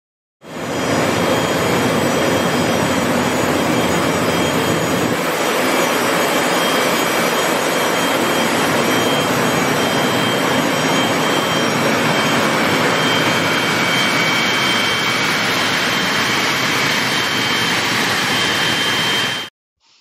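An aeroderivative gas turbine runs at full, extremely loud power. A dense, roaring jet-like rush holds steady and unbroken for nearly twenty seconds, then cuts off abruptly.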